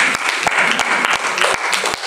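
A church congregation bursting into dense, loud applause, a steady wash of many hands clapping at once, close and sustained throughout.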